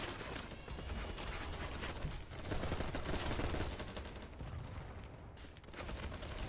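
Video game combat rages with dense, continuous gunfire and repeated grenade blasts in a rapid, loud, chaotic barrage with no pauses.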